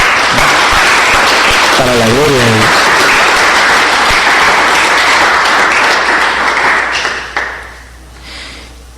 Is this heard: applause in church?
yes